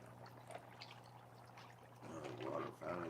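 Water splashes and pours while a foot is rinsed off during a pedicure, a steady trickle that grows louder in the second half, mixed with a low hum and faint talk nearby.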